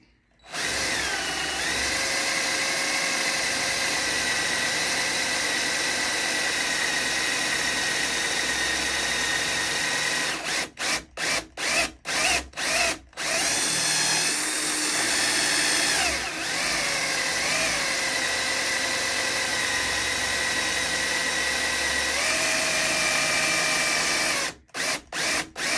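A power drill bores steadily through a cracked axe handle, whining close and loud for most of the stretch, its pitch shifting as it nears the end of the hole, with several brief stop-start pauses.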